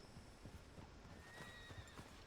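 A horse in the video game Red Dead Redemption 2 whinnies while its hooves clip-clop in a quick, soft rhythm, faint and alone over a background hiss.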